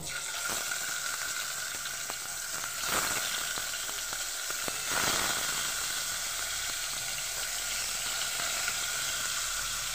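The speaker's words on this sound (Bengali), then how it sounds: "এবার আমি মাছগুলোকে ভেজে নেব।" Koi fish frying in hot oil in a pan, a steady close sizzle that hisses continuously throughout with a few brief clicks and bumps.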